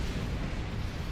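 An explosion in the Star Trek Online video game, heard as a deep, rumbling blast that fills about a second without a break, close and fairly loud.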